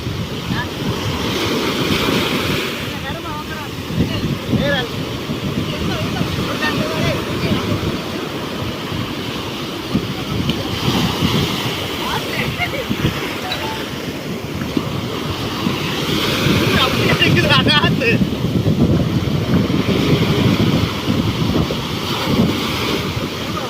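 Sea waves washing onto a shore under steady, gusty wind that buffets the microphone, a constant loud roar of surf over the whole stretch.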